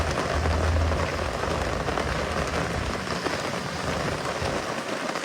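Rain falls steadily and close by in Colorado, a dense, even hiss of drops striking a surface that continues unbroken for about five seconds, with a low rumble at the start.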